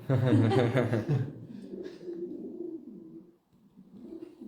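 A person imitates a pigeon with soft, low, warbling coos following a loud burst of laughter and talk, the cooing trailing off quietly near the microphone.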